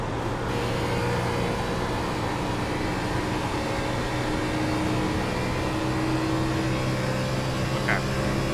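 Race car engine droning steadily in the iRacing sim at Homestead-Miami, a continuous loud hum with sustained tones shifting gently as the car laps, with no breaks throughout.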